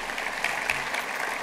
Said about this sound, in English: So round of applause to him.